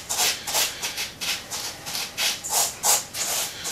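Hands working dry bacon cure and molasses together, a steady run of gritty rubbing and scraping strokes, close and fairly quiet, with no talking.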